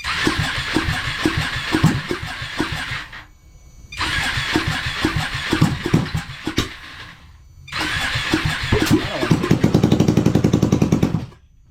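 A Ducati 1199 engine swapped into a Honda Grom, running on a FuelTech ECU, cranks and fires in three separate attempts, each a loud, rough, chugging run before cutting out, the last one revving harder.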